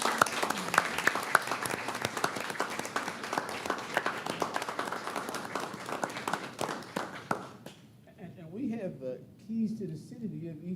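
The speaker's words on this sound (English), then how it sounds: "let's give these guys a round of applause" A crowd at a city commission meeting applauds with dense, steady clapping for several seconds. It then stops abruptly and a voice starts talking.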